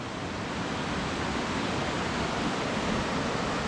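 A rushing river in wild Scottish landscape, a steady broadband roar of fast-flowing water, close and loud, continuous without breaks or voices.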